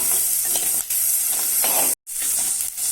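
Onions with garlic sautéing in hot oil, a close, loud, continuous sizzle with a brief cutoff partway through.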